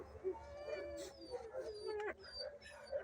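An emaciated young male dog at a veterinary clinic whines and howls in drawn-out, wavering cries, fairly close and somewhat faint, with brief whimpers between.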